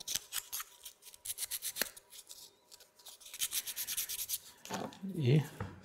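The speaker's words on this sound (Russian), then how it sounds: "зачистим торцы наждачной бумагой" Sandpaper rubbed back and forth over the end faces of a wooden block part from an Ugears Archballista-Tower mechanical model kit, giving a quick run of rhythmic, close scratchy strokes that end in a brief heavier scrape.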